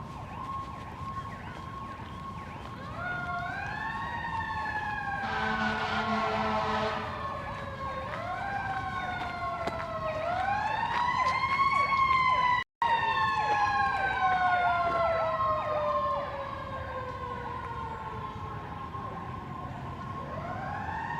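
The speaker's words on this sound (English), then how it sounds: "It's peaceful until you hear the sirens" Emergency vehicle sirens wail through Washington DC, several overlapping tones rising and falling in long sweeps, loud and fairly close, with a steady mid-pitched whoop underneath and a brief cut near the middle.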